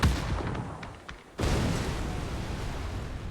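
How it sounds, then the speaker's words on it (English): Grenades exploding in a competitive first-person shooter match, heard as loud booming blasts and rumbling bursts with a brief lull before another heavy detonation that roars on, close and dominant. "Those nades are going to be good."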